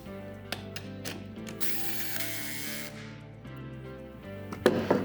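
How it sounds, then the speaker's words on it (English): A cordless drill fitted with a 9/16 socket, clutch set to 10, tightens a bracket on a flat face connector, giving a steady whirring motor whine broken by sharp ratcheting clicks, close and fairly loud. "I like to finger tighten it before I use the drill."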